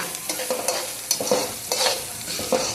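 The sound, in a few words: local chicken being cooked, frying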